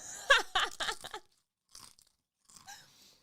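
Crunchy potato chips chewed close to the mic in two or three short bursts of crisp crackling, the first loud and dense, followed by quieter scattered crunches after a pause.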